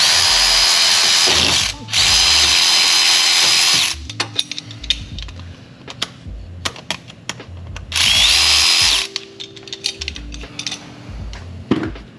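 Pneumatic impact gun spinning bolts loose on a Porsche 996/997 during axle boot repair, three loud sustained high-pitched whirring bursts separated by clicking and clanking tool handling in between.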